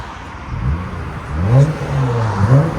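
Jeep Gladiator with a 3.6L V6 and muffler-deleted exhaust, revving in a few deep throaty swells that rise and fall, loud and close with a low rumbling idle between blips.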